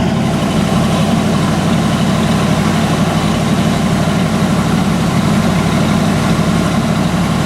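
A Ford truck engine with a freshly retuned carburetor idles loudly and close up, a steady low rumble throughout with no voices over it.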